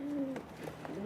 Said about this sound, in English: 2 pigeons in an official pigeon carrier.